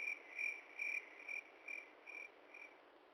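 Crickets chirp in a steady, evenly spaced pulse of shrill trills against a constant hiss, faint and alone with no voices.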